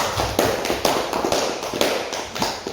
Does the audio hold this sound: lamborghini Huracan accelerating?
no